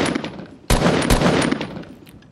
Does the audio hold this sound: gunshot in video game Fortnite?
yes